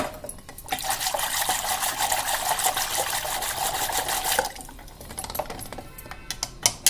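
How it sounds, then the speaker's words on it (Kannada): Water poured into churned curd for palak majjige saaru, a steady splashing pour lasting about four seconds, then quieter clinks and handling sounds, with no talking. "ಸ್ವಲ್ಪ ನೀರು ಹಾಕ್ತೀನಿ"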